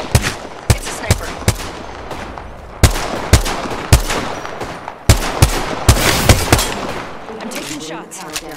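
Gunfire rings out in the Apex Legends video game as sharp repeated shots and bursts, loud and close, spread over several seconds amid a noisy in-game battle, with a hemlock assault rifle among the weapons.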